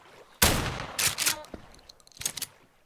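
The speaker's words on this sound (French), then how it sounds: "Mais il y a eu un coup de feu." A sharp, loud gunshot cracks out close by, followed by a few more sharp bangs and rattles in quick irregular succession.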